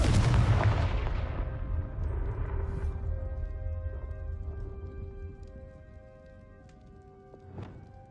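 In the Hogwarts Legacy video game, a Confringo explosive spell goes off with a loud, deep boom that rolls away slowly over several seconds. Faint rumbles, tones and a softer thud follow.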